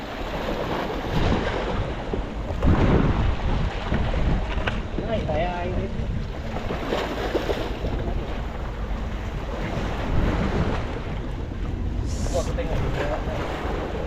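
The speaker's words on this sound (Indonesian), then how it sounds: "Ombaknya kuat, Bu. Angin kencang." Strong sea waves and gusting wind at a shore fishing spot form a loud, continuous roar with buffeting noise on the microphone and surges of surf.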